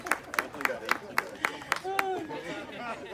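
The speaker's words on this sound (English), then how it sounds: "big round of applause for Nick, everybody" Wedding guests clap for Nick in a brisk round of applause, sharp rhythmic claps filling the room close by, with chatter rising as the clapping stops.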